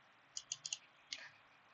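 Computer keyboard keys click, four quick light taps and then one more after a short pause, quiet and close in a silent room.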